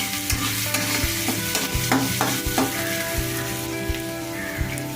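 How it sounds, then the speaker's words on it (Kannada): Chopped onions, slit green chillies and curry leaves sizzle steadily in a hot pan, close and continuous, with repeated stirring scrapes and clinks of a spoon against the pan as they fry. "ಸಣ್ಣಕ್ಕೆ ಹಚ್ಚಿರೋ ಈರುಳ್ಳಿ, ಇದನ್ನು ಚೆನ್ನಾಗಿ ಹುರ್ಕೊಳ್ಳಿ"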